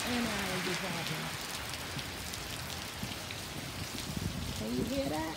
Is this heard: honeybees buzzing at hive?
no